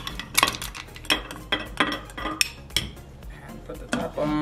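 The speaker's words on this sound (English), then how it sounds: "Ooh, let's put in some popcorn." Popcorn kernels pour into a silicone microwave popcorn popper in quick rattling, clinking bursts, several separate clattering pours close up, with a person talking briefly.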